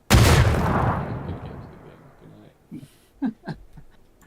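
A grenade blast in a video game, one sharp loud boom at the start with a long rumbling decay, followed by a few short faint thumps near the end.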